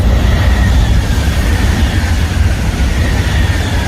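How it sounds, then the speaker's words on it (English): Steady, loud rumble of a European high-speed train rolling along the tracks, with continuous low clatter and a faint high whine riding on top. "This one sounds like an old-timey train."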